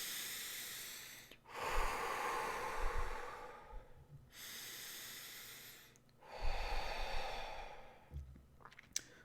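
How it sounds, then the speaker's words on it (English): Several slow, deep breaths drawn in and let out close to the microphone during a meditative spiritual session, each long breathy inhale and sigh-like exhale separated by short pauses, with no talking. "I'm going to take a couple deep breaths in."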